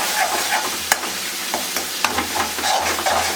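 Turmeric and coriander powder are stirred in a hot cooking pan, making a continuous crackling sizzle punctuated by quick spoon clicks and scrapes.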